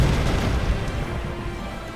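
Assault cannon barrage in the Sunrider space strategy game, a continuous rumbling wash of deep booms and bursts that stays loud and dense for the whole stretch with no talk over it.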